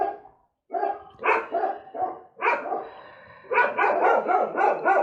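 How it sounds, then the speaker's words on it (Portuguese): Several dogs bark in a noisy chorus, bursts of yelping and barking that swell and overlap, growing denser and steadier toward the end, with no voices over them. "Começou a sinfonia dos cachorros."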